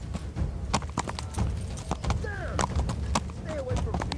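Horse hooves clip-clop at a steady rhythm in the medieval video game Kingdom Come Deliverance. The clear, repeated hoofbeats run alongside a horse's whinnies and overlapping voices.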